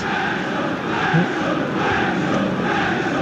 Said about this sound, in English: Wrexham fans cheer behind the goal.